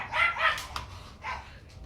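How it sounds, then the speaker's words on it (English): A dog barks a few times in quick succession, short sharp yaps close to the microphone with a brief pause before a final softer bark, with no talking over it. "I'm gonna have to turn this down if he keeps barking."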